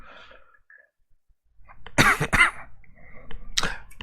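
Two sharp coughs in quick succession from nearby, followed by another after a brief pause, in an otherwise quiet room.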